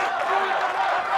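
A crowd roaring and cheering on strongman Mariusz Pudzianowski at a World's Strongest Man event, a steady, loud wash of voices over a brief moment.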